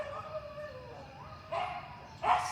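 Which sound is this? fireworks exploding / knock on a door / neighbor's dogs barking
neighbor's dogs barking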